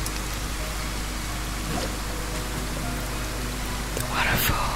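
A waterfall in the video game Arise gives off a steady, dense rush of falling water. It stays at an even, moderate level throughout, with a brief soft whisper near the end.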